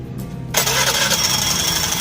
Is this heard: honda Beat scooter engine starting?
yes